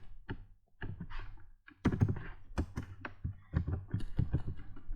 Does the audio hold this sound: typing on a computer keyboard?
yes